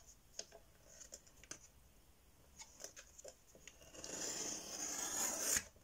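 A small paper trimmer cuts scrapbooking paper: a few light clicks and taps as the paper is positioned, then a close, rising scraping rasp as the blade slides through, lasting a second or two before it stops.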